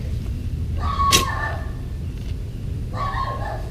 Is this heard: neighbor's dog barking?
yes